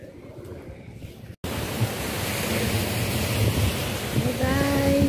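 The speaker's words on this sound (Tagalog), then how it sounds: "Nandito ako ngayon sa tabing dagat. Malakas ang alon." Rough sea surf rolls continuously onto the shore, loud and broad with wind buffeting the microphone, after a brief dropout early on.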